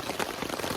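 Rain falls on the Fisher Spring Run trail in Dolly Sods as a dense, steady patter all around, close and even, with no voices.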